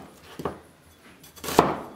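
An onion is roughly cut into a few chunks with a knife while preparing homemade chicken stock, giving two distinct chops on a board about a second apart, with quiet kitchen sound between them.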